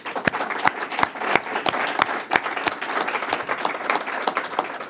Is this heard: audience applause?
yes